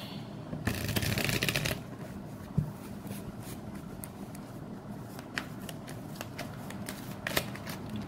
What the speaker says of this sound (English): Let me take a shuffle and we are good to go.